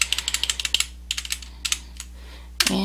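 Someone types on a computer keyboard, with quick bursts of crisp, close key clicks broken by short pauses and a slightly heavier keystroke at the end.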